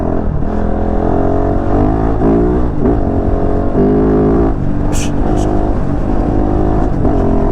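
Kove 450 Rally motorcycle engine revving on a dirt off-road track, a steady loud droning note that rises and falls in pitch with throttle blips, with someone talking over it throughout.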